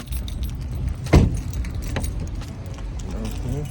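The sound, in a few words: keys jangling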